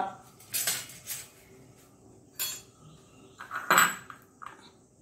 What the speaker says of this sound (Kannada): ಬಾದಾಮನ್ನು ಕಟ್ ಮಾಡ್ಕೊಳ್ಳೋಣ, ಚಾಪಿಂಗ್ ಮಾಡಿ